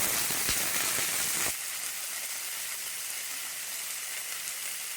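Coriander leaves hitting hot oil in a pan for a Malaysian-style kothamalli thokku, a loud steady sizzle that drops to a softer, even crackle after a moment.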